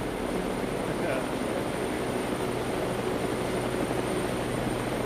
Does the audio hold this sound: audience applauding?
no